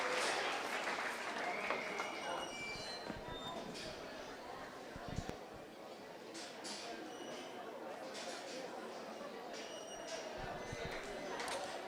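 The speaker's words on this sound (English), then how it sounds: "Let's give those people a big round of applause." Audience applause at a county 4-H Showman of Showmen livestock competition, faint and distant clapping from a crowd, spread thin over a long stretch with scattered murmuring and a few clinks.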